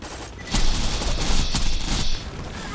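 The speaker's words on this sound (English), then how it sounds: "I think I got hit by the reflected bullets again." Rapid gunfire from reflected bullets in Borderlands 2 plays as a dense, loud burst of overlapping shots and booms under the game's constant background noise.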